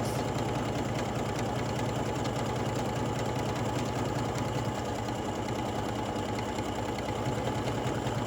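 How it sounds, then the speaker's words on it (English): A sewing machine runs steadily at close range, stitching a buttonhole with bar tacks at each end, a constant rapid mechanical hum with no pauses and no voices. "It's going to bar tack, and now it's going to come down the other side, and then it's going to bar tack at the end."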